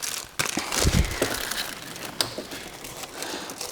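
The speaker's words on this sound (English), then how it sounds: "we're now going to put the plastic bag over it" A plastic bag crinkling as it is worked over a loosened oil filter on an R33 GT-R's RB26 engine, close and busy, with repeated crackly rustles and a few sharper crunches throughout.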